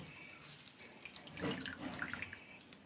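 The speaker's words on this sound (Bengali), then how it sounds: "একদম ভালো করে চিপে সমস্ত জলটা বের করে দিচ্ছি" Water squeezed by hand out of grated radish for paratha filling, a soft close trickle and splash of liquid dripping into a bowl, faint and alone.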